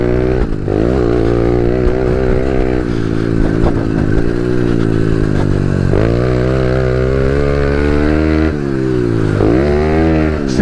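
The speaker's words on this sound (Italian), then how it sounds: "Si sente il carburatore rispetto all'iniezione che fa un po' di buchini." A small carbureted pit bike engine idles and blips close by, its buzzing note rising and dipping in several short revs over a steady run, with no talk.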